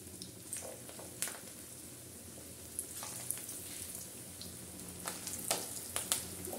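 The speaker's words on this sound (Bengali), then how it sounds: "এখন আমি এক এক করে পাকোড়াগুলো ভেজে নিচ্ছি।" Cabbage pakoras deep-frying in oil over gentle heat, a faint, low bubbling sizzle broken by scattered small pops and crackles.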